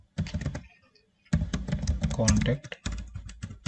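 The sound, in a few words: typing on a computer keyboard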